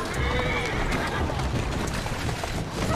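A horse whinnies in a video game over clip-clopping hooves and a dense, steady background wash.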